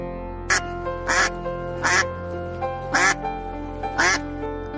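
A goose gives five evenly spaced, nasal quacking honks, each short and clear, about a second apart over a steady low background hum.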